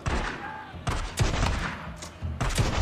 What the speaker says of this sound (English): now you're just gonna go in with a shotgun and blow him away